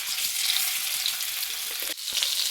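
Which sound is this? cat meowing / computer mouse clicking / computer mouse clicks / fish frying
fish frying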